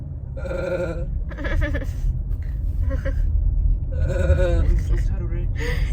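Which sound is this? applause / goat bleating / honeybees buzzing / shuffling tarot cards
goat bleating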